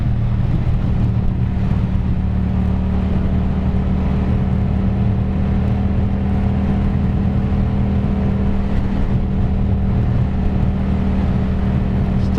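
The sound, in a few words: Yamaha FZ-07 motorcycle riding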